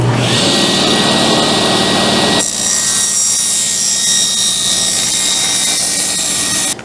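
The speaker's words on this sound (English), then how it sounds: "Now I can go ahead and cut this to width. I could use my table saw sled to trim this to width" A table saw rips a board to width against the fence for a small stool repair, a loud steady broadband whine with a bright tonal hum that shifts pitch partway through as the blade works the cut, then cuts off abruptly at the end.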